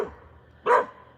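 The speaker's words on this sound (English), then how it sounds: "Stop barking." A dog gives a single short, sharp bark at moderate distance, standing out alone against quiet background.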